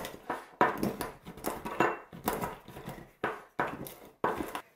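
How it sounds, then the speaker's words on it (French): Almonds being coarsely crushed with a mortar and pestle, heard as a steady run of roughly ten dull pounding knocks, each followed by a short crunch. "Je vais rajouter mes petites amandes que je vais au préalable grossièrement hacher."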